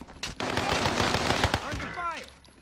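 Video game gunfire, a loud, rapid automatic burst of shots with sharp cracks, ending in a ringing tail as the firing stops, with voices in the background.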